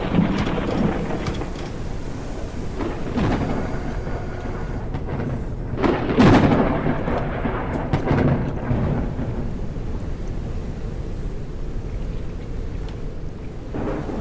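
A thunderstorm rages in the video game Forever Skies, with steady rain and wind hissing throughout and a loud thunder crack near the middle, followed by rumbling that fades back into the downpour.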